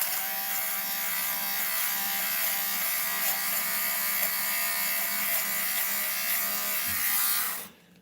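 Steady electric whirring and buzzing of a fabric shaver run across Jordan 4 sneakers to take off lint, close and continuous, cutting off abruptly near the end.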